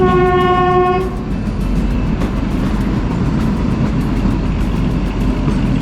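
A Kalka-Shimla toy train stands at Sogi railway station. A sustained horn blast opens, then close, steady rumble and rattle of the train carry on loudly to the end, with no one talking.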